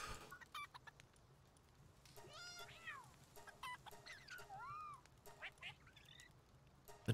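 Duck quacking in the game Palworld, several faint nasal quacks and squawks scattered across a quiet background, some rising and falling in pitch, with no talk.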